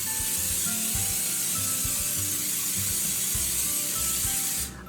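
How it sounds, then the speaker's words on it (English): Cooking spray hisses steadily onto a cake pan in one long continuous burst, loud and close, cutting off just before the end, with faint knocks and handling noises underneath. "I'm gonna spray this pan really well."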